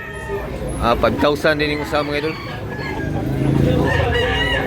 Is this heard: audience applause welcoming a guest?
no